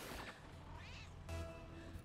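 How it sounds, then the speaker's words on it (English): Cat meowing heard over the background sound of a Rocket League esports match broadcast, with several drawn-out meows rising and falling, fairly loud and close, and no talk during the clip. "those cat sounds are going to bother me"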